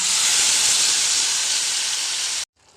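Tomato paste hits hot oil tempered with bay leaf, cumin, cinnamon and cardamom, a loud, close burst of sizzling hiss that holds steady for over two seconds and then cuts off abruptly.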